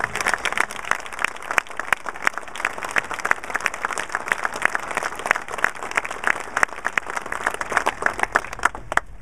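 A room full of people applauds steadily, sharp dense clapping continuing for several seconds without voices.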